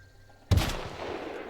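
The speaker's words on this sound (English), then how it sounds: "you just heard a gunshot and it whizzed by your face" A single sharp gunshot in the video game The Outer Worlds cracks out loud and close, followed by a short decaying echo, with no talk over it.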